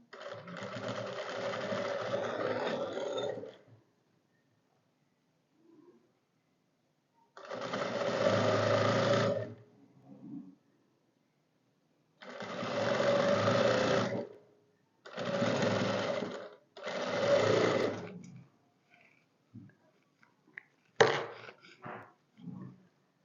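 A sewing machine stitches a shalwar in four separate bursts of rapid mechanical clatter, each a few seconds long, with quiet pauses between them. A few faint clicks and handling sounds follow near the end.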